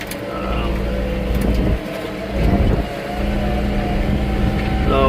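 A John Deere 4066R compact tractor hauls heavy wet rocky mud along a rutted trail, its engine droning steadily and close with a couple of brief surges in load, and no talk.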